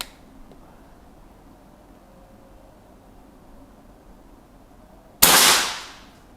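A single sharp air rifle shot, fired as the sixth round while checking a scope's aim, cracks out after a long quiet stretch and decays quickly.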